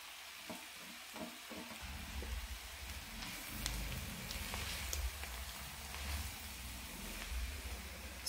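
Fenugreek leaves go into a pan of potatoes and roasted spices over low heat, giving a soft, faint crackling sizzle with a few light stirring clinks near the start.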